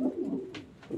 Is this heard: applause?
no